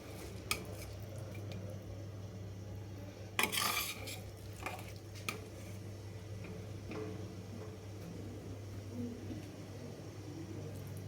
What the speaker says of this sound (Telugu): ఈ వెలగపండు మిశ్రమాన్ని దాంట్లో జాగ్రత్తగా వేసి కలుపుకుందాం.